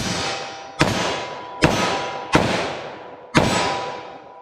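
.357 Magnum snub-nose revolver firing Federal HST ammunition: four sharp, loud shots at uneven intervals, each with a sudden crack and a long echoing decay.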